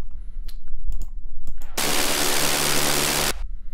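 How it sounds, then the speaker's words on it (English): A Serum synth saw wave through a resonant filter with LFO panning and distortion plays a bright, sustained, hissing burst of about a second and a half, framed by short clicky percussive hits. "This movement comes from the LFO and panning, and there's some zero square distortion on it"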